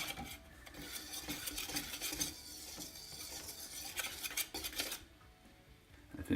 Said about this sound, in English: Now what I'm going to do is stir that around a little bit,